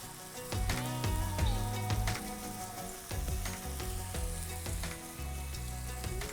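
Potatoes fry in mustard oil over a high flame, giving a steady, fairly loud sizzle that runs the whole time beneath tonal music.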